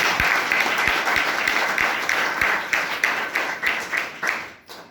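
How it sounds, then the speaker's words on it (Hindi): An audience applauds loudly at an event, a crowd clapping steadily with sharp individual claps that thin out toward the end. "एक बार उनके लिए जोरदार तालियां।"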